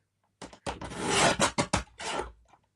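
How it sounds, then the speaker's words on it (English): A paper trimmer slicing vellum into strips at close range, with several rasping cutting strokes of varying length separated by brief pauses in an otherwise quiet room. "you can just trim this down and just cut yourself strips like so"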